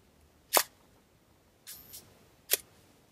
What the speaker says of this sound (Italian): faccio un altro scatto a un quarto di secondo